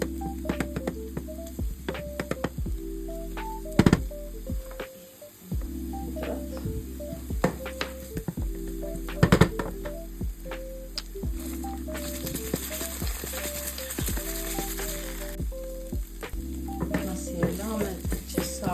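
Chopped onions sizzle steadily in hot olive oil in a pan for an Albanian bean dish sauce, with frequent scraping, clicking stirs and utensil knocks over a constant frying hiss.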